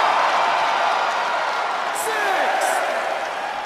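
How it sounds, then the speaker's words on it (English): Wrestling arena crowd at WWE Extreme Rules 2022 roaring in a thick, sustained wall of noise, loud and continuous, with a commentator talking over it. "sound of this crowd is deafening"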